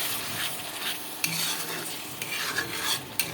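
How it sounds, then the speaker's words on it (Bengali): A spice paste of turmeric, chili powder, salt and water is stirred and fried in a pan, giving a steady close sizzle broken by sharp utensil scrapes and knocks, with no voices. "যতক্ষণ পর্যন্ত না ভালো করে ভাজা হয়েছে মশলাটাকে ততক্ষণ আমি নাড়তেই থাকবো।"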